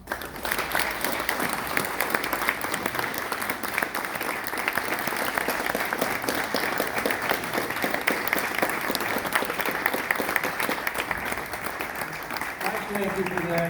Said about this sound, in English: Let's give a great round of applause and welcome to our Congressman Tom McClintock.